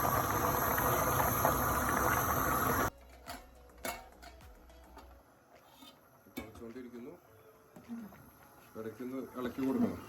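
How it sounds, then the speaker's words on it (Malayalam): A pot of Arabian chicken kabsa with rice boils hard, giving a loud, dense bubbling hiss for about three seconds. It then drops to a quieter kitchen scene with light clinks and a voice speaking near the end. "നമ്മുടെ കപ്സ് തിളച്ചുകൊണ്ടിരിക്കുകയാണ്."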